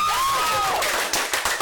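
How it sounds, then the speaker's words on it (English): Audience applause for teachers and helpers after a school musical production, scattered clapping with crowd noise and a high whistle-like tone, fairly loud and fading slightly toward the end. "give a round of applause for your teacher"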